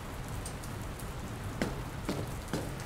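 Steady rain falls and patters on surfaces in the video game Dr. Langeskov, The Tiger, and The Terribly Cursed Emerald, a continuous wash of noise with a few sharper drips.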